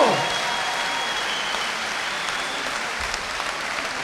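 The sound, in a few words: audience applause after a savate boxing final bout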